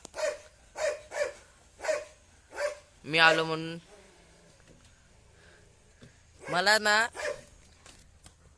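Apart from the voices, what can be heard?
dog barking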